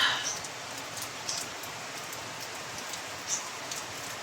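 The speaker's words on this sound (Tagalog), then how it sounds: "Ngayon, maulan na talaga guys" Light rain falls steadily outdoors in the Philippines, a soft, even hiss of drops with a few faint spatters on nearby surfaces.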